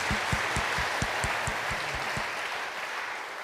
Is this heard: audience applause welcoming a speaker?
yes